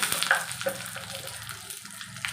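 Oil crackles and sizzles steadily as mustard seeds, cumin and curry leaves fry, with a few sharp pops and soft stirring, close by.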